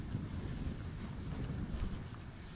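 Wind blowing across an open disc golf field buffets the microphone in a steady, faint low rumble with gusting swells and no clear other sounds.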